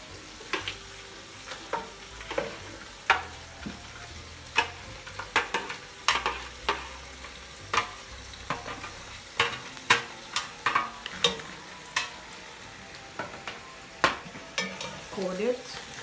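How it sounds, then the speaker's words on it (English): Lobster shells searing in a hot pan, a soft continuous sizzle broken by frequent sharp clicks and scrapes of stirring, close and fairly quiet. "Now let me add the shell. I'm gonna sear the shell for about"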